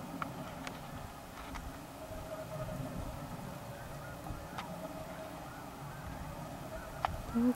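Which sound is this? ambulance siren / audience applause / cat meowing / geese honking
geese honking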